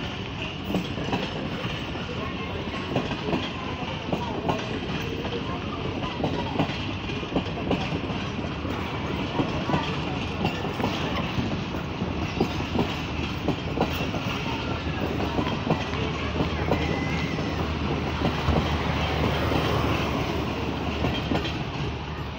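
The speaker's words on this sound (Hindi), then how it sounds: "आज की हमारी ट्रेन थी 42 डाउन काराकरम एक्सप्रेस, एक रोड स्टेशन से निकल चुकी है।" The 42 Down Karakoram Express, led by a ZCU-30 locomotive, pulls out of Drigh Road station with steady rumbling and rhythmic clickety-clack of wheels over rail joints, continuous and fairly loud throughout.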